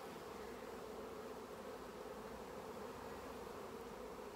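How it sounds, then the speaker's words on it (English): Honey bees buzzing during a beehive inspection, a dense, steady hum of many insects close by, continuous and even throughout with no talking. "I'm just going to shake the bees off."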